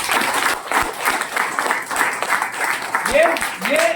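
A crowd breaks into loud, sustained applause, dense clapping filling the room with a few whistles rising near the end.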